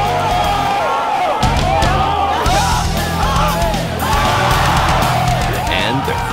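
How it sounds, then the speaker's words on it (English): A crowd at a robotics tournament cheers wildly for Team 1138, with loud yells, whoops and hollers rising together in a dense, continuous roar that stays close and full throughout. "And the crowd goes wild."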